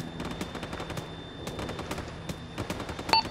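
Rapid bursts of airsoft gunfire crack in quick succession, sharp repeated shots at a fast, uneven rhythm, moderately distant with no talking, during an indoor tactical game.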